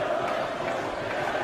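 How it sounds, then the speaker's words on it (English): Darts fans in the Winter Gardens crowd sing a drawn-out chant for Phil Taylor during the World Matchplay final, a sustained, blended mass of voices heard from across the hall at moderate level. "There's only one Phil Taylor is the cry from this appreciative, knowledgeable Winter Gardens crowd."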